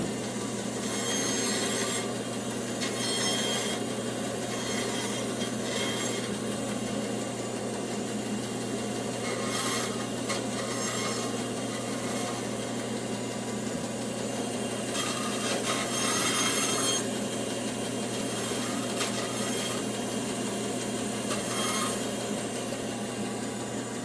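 Wood pieces for a chopping block being trimmed by hand in an old-fashioned way, a continuous rasping, scraping drone with periodic louder strokes over a steady low hum, close and moderately loud with no talk.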